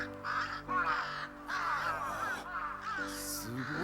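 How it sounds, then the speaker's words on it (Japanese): Several crows caw loudly and repeatedly in overlapping harsh calls near a school grounds, the rough bursts coming in quick succession over steady background hum. "すごいカラスだな。"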